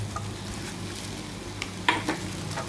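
Onions frying in a pan for a toasted bread masala, a soft steady sizzle with a couple of brief utensil clicks near the end.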